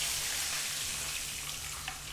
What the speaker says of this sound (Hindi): अब पानी डालते हैं थोड़ा